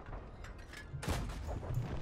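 Tank cannon fire in the World of Tanks game: a sharp booming shot about midway, followed by rumbling echoes and lower thuds under a steady engine-like drone.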